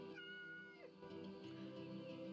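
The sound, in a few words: cat meowing when stroked in the video game Yes, Your Grace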